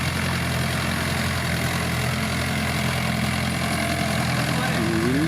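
A tractor engine working rounds through a flooded paddy field hums with a steady, close, low-pitched drone that holds even throughout.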